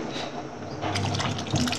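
Small cut pieces of lotus stem dropped into a little water in a home kitchen, a soft liquid splash and trickle arriving partway through after a quieter start.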